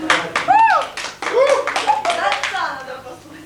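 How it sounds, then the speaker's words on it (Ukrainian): An audience claps at a 1996 student award show held at a Kyiv arts university. Bursts of clapping run through the whole moment, mixed with loud overlapping voices and calls from the crowd nearby. "Аплодировать."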